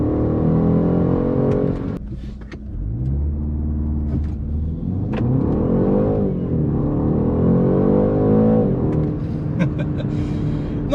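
A BMW 128ti engine revs up for a launch, the pitch climbing and dropping in a loud, close, sustained drone with brief dips between pulls.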